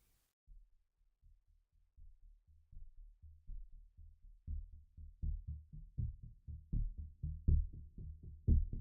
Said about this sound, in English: So you'd have probably heard it be quite muffled at the start.